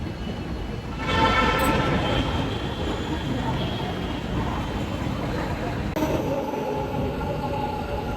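Continuous rumble and rushing noise from inside a moving Bengaluru metro train, steady and fairly loud, with a slight rise in intensity partway through.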